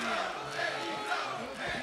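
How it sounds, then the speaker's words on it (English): A wrestling crowd at an AEW event in Phoenix chants in rhythmic unison, a steady, distant roar of many voices filling the arena throughout. "Chant of AEW rings out here"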